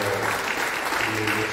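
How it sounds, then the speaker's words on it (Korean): An audience at a university anniversary thanksgiving service and doctoral degree ceremony claps in a dense, continuous burst of applause filling the hall. "여러분 박수 한번 해주시고요"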